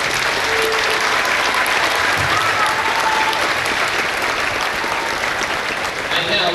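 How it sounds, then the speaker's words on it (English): Steady, loud crowd applause fills a high school basketball gym, sustained evenly throughout with faint voices mixed into the din. "let's give one big round of applause"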